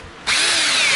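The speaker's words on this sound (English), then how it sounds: "I might drill, open that up a bit." A power drill bites into a plastic front bar from a Nissan Skyline R33 GTST under repair, a single loud, sharp whine that starts abruptly and holds for about a second.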